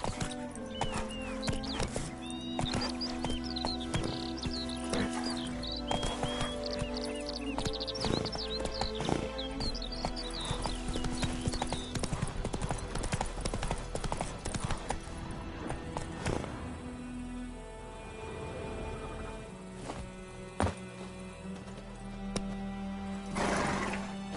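Roach the horse in The Witcher 3: Wild Hunt on PS5, hooves clip-clopping in a steady galloping rhythm for a long stretch, with occasional snorts and ambient game sounds around.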